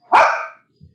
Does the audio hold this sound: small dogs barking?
yes